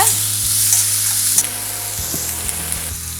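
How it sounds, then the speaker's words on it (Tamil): Onion and tomato sizzling and frying in a pan for a Tamil-style dal fry with yellow lentils, a steady close hiss with stirring scrapes and clinks throughout, no talk. "வெங்காயம் வதங்கிருச்சு. இப்போ நம்ம ஒரே ஒரு தக்காளி சேர்க்குறேன்"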